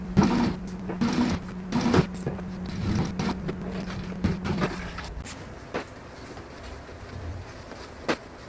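Sewing machine stitching leather backpack end panels, a steady mechanical whir with rapid needle clatter for several seconds, then stopping, followed by faint scattered clicks and handling noise.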